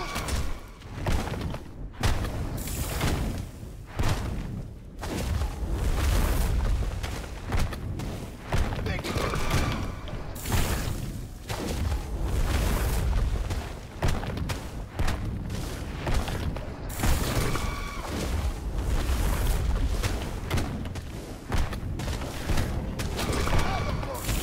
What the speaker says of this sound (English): My 6 corpse explosion just did 2k damage.